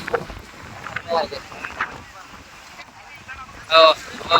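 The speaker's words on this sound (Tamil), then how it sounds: "பயங்கரமா காத்தடிக்குது" Strong coastal wind at Rameshwaram gusts and buffets against the microphone in uneven rushes, with faint background activity and crowd noise beneath it.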